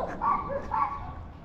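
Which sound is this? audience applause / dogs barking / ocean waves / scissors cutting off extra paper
dogs barking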